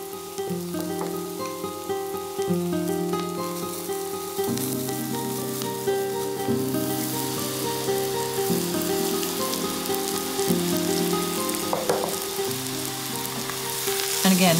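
Rice stirred in a hot pan of oil with onion for an asparagus risotto, a continuous close sizzle and crackle with steady scraping of the spoon throughout, kitchen quiet apart from a faint tonal hum.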